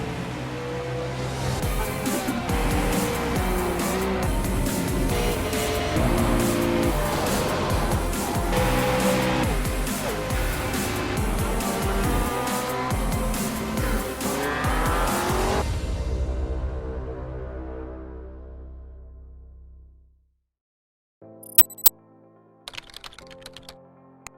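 Simulated race cars at Watkins Glen in the iRacing video game, engines roaring loud and continuous with tire squeals for about fifteen seconds before fading to silence, then a few brief clicks at the end.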